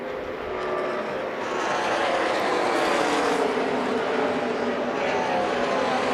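ARCA Menards race cars roar past at Charlotte Motor Speedway, a dense, sustained engine drone swelling as the pack sweeps by, loud and continuous with no clear gaps.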